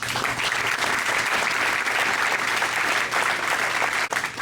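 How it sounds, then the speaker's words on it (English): Applause at a school water polo team banquet, a dense, steady roomful of clapping that holds at full strength for several seconds before briefly dipping near the end. "one big round of applause, guys, for all your parents once again"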